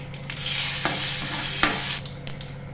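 Steady crackling sizzle of urad dal frying in hot oil, with a few sharper spits and stirring scrapes, close and continuous.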